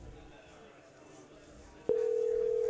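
A telephone ringback tone on an outgoing call starts partway through and holds as a loud, steady tone to the end, over faint room noise.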